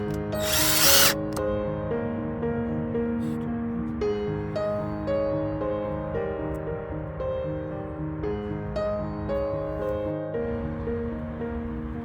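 Power drill driving 6-inch screws to join sections of a wooden modular cold frame, a steady, loud whirring hum that runs continuously with slight pitch shifts, close up and with no talking.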